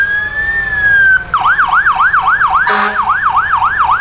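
Morgan County Fire Department fire truck siren at a Cotton Gin Festival, loud and close, a steady tone that switches into a rapid rising-and-falling yelp, with a brief blast of air horn partway through.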